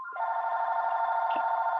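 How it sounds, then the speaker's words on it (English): A telephone rings with a steady electronic tone that holds for nearly two seconds, clear and moderately loud, with a brief click partway through. "it's the phone in the background"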